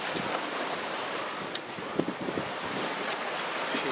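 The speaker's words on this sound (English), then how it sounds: "The wind is between 18 and 22 knots." Wind of 18 to 22 knots and breaking waves on an open ocean passage aboard a sailboat under working sails with a reef in the main, a steady loud rush with a few sharp splashes.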